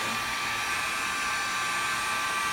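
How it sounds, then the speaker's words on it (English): A hot air brush blows steadily on synthetic wig bangs, a continuous close whirring rush of airflow with a faint motor hum, running alone without pause. "So I'm going to take my hot air brush and then I'm just going to show you what I do to round them under. So I'm going to turn it on."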